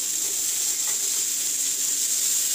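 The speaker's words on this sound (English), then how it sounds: "frying bell peppers" Bell peppers fry in a pan at medium heat for sweet and sour chicken, giving a steady, even sizzle with a soft hissing edge and no voices.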